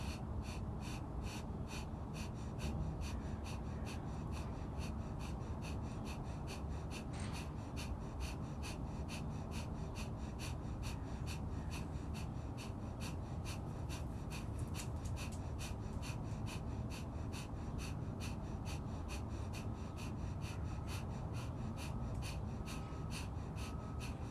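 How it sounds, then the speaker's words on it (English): Rapid, rhythmic bellows breathing during a morning meditation exercise, with forceful inhales and exhales repeating at a steady fast pace for over twenty seconds, continuous and close without talking. "we'll do the bellows breath again, inhaling halfway. And exhale."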